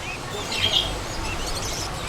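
Cockatiels and finches at the Kolkata bird market chirp faintly, with a brief louder tweet about midway over steady busy market background noise.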